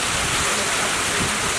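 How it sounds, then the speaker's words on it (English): Water pours and splashes inside a flooded hotel in Miami, a loud continuous rushing wash with no break. "there's water spilling from somewhere"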